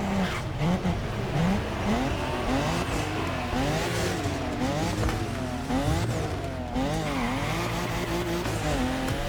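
A race car engine in The Crew Motorfest video game revs and accelerates loudly through gear shifts, pitch rising and falling repeatedly, with occasional tire squeal in the background.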